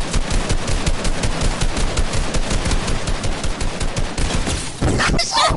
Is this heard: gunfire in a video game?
yes